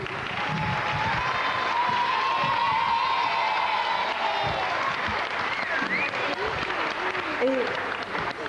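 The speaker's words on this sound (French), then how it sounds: "je vous demanderai de les applaudir" An audience applauds at a children's Easter celebration in Beau Basin, with steady clapping mixed with crowd noise and a voice singing or speaking over it.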